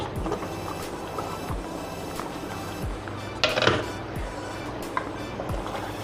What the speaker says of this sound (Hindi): कुकर का जो कैप है इसको मैं हटाऊंगी